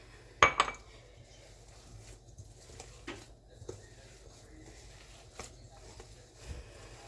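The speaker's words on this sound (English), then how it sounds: "make sure you stir it really well" Utensil stirring Italian seasoning and garlic powder into food in a bowl: a couple of sharp clinks near the start, then faint scattered scrapes and taps against quiet kitchen background.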